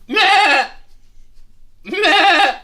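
A person imitates a sheep bleating, two loud, wavering nasal bleats separated by a short silence, close and clear with nothing else behind them.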